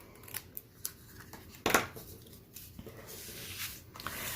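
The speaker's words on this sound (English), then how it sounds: "take a pair of paper snips and trim off the excess" Paper snips trim excess paper ribbon on a handmade stamped greeting card: a few light, quick snips, then one louder, crisp cut in the middle, close and quiet overall.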